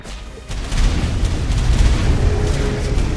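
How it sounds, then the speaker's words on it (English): A boss's butt bomb detonates in the Crystal Pug video game, breaking into a loud, deep explosion that rolls on as a sustained, heavy rumble. "He's gonna pop that butt bomb"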